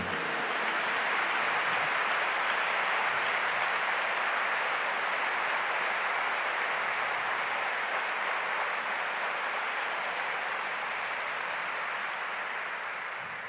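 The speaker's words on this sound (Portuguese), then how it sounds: "give the Lord a big clap of praise to Him" A church congregation at a charismatic service claps together in praise, producing a dense, sustained wash of applause that holds steady for over thirteen seconds and fades slightly at the end.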